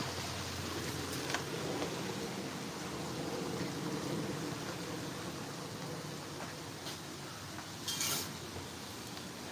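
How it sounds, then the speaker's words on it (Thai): Steady hiss of flowing water in a natural outdoor cafe setting, an even, continuous wash with a couple of brief brighter splashes near the end and no talking. "นี่ทุกคนเราก็จะได้ยินแบบเสียงน้ำไหลแบบนี้"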